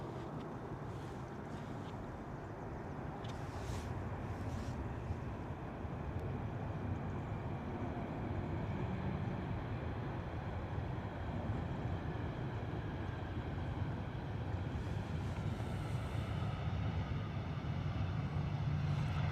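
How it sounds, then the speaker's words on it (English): A Ryanair Boeing 737-800 arriving at London Stansted from Lisbon, its engine roar a steady broadband rumble that holds loud and unbroken for the whole stretch, with no talk over it. "Next in the door is our Ryanair 737-800 coming in from Lisbon"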